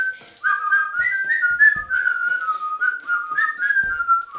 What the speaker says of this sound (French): vous sifflez votre chanson préférée pendant 30